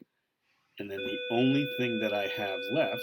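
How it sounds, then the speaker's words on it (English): A bell or electronic chime rings as steady sustained tones throughout, under a person's continuous talking. "sorry for the bell noise"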